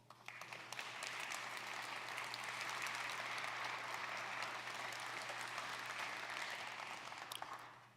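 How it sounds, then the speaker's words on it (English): Conference audience applauding the event organizers at a DevOps gathering, a sustained wash of clapping that swells and then tapers off near the end, heard alone without talk. "Applause."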